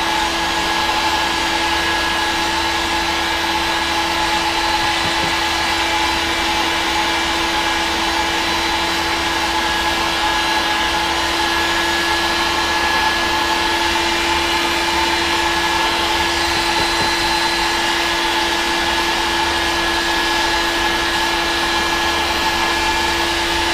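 A heat gun blows a steady, loud, unbroken hiss with a faint whine while softening PVC pipe for a DIY hydroponic garden tower, running alone without pause.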